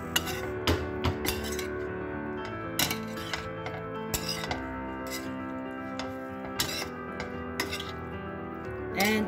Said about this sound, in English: Our spaghetti already cooked and we mix.